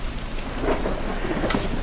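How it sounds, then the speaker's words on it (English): Rain pours steadily with a low thunder rumble underneath, a close, dense hiss of drops with a brief brighter splash near the end, and no talk. "Do you love that rain sound? So soothing."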